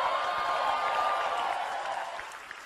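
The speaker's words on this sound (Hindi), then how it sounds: "आई थिंक हमें भरपूर तालियां बजानी चाहिए" Audience applause rolling steadily as a dense, even wash of clapping, fairly close and sustained, slowly easing off toward the end with no talk over it.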